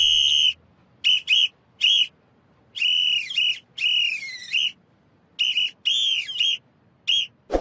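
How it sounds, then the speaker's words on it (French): An anime character whistles a tune in clear, high, bright notes, some held and some bending in pitch, arranged in short phrases separated by pauses, close and alone. "le commandant Parn, il siffle."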